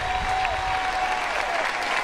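A stadium crowd at the Florida State spring football game applauds in a dense, steady wash of clapping and cheering, loud and continuous throughout.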